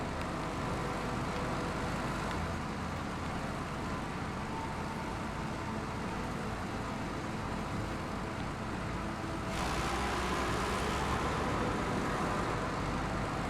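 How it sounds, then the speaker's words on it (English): A loud truck engine in the SnowRunner driving game drones steadily and continuously, a dense rumbling roar with no talk, shifting slightly in tone partway through. "It would also be a little easier if this truck wasn't so loud"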